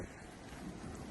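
Wind buffets the microphone outdoors on a cold, windy Canadian day, a steady low rumbling gust with broadband rush and no speech.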